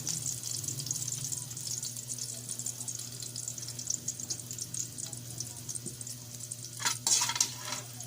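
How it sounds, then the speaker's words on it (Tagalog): Garlic sautés in a little oil for pork sisig, a continuous soft sizzle with occasional spatula stirs and a brief louder scrape near the end, heard close and alone without talking. "At igigisa na natin ang bawang."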